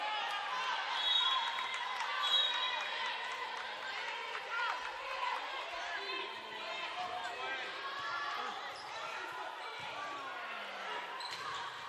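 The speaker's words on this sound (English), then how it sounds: "you can hear the Polk State crowd getting fired up" Spectators at a Polk State volleyball match in the 2015 FCSAA tournament keep up a steady wash of cheering and chatter in a gym, with ball sounds and a commentator talking over the noise.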